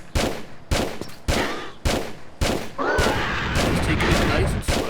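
Revolver gunshots from Tomb Raider II ring out in a steady run of sharp, loud reports about half a second apart, followed by a denser stretch of overlapping gunfire and noise.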